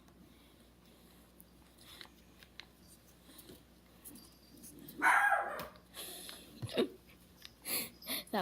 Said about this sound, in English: was my little dog barking